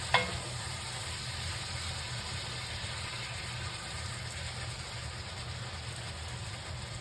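Raccoon meat cooks and glazes in a pan on low heat, giving a steady, even sizzle with a low rumbling hum beneath it; no one speaks.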